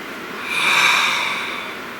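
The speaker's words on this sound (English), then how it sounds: "Please take a nice deep breath." A single long, slow deep breath drawn in and let out, close and airy, swelling to a peak around the middle and fading away, with no talking.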